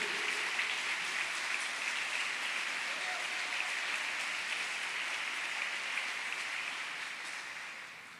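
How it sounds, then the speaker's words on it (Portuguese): Congregation applause during a church Bible study service, a steady broadband wash of many hands clapping that holds evenly for several seconds and tapers slightly at the end, with no clear speech on top. "Dê um aplauso ao Senhor aí,"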